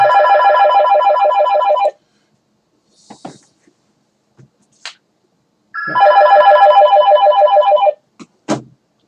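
A telephone rings indoors in two loud bursts of fast, trilling electronic ringing separated by a few seconds of quiet, with faint clicks and breathy sounds between the rings.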